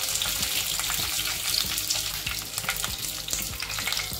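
Cumin seeds and curry leaves crackling in hot oil for sabudana khichdi: a loud, continuous sizzle dense with sharp pops and crackles, close by, with no talking.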